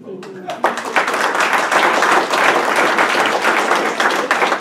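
A room full of attendees at a closing meeting bursts into loud, sustained applause after a brief spoken line, clapping steadily to the end.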